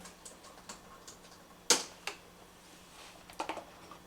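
Measure button pressed on a Konica Minolta CR-400 colorimeter: one sharp, close mechanical click, followed by a few fainter small clicks and taps in a quiet room.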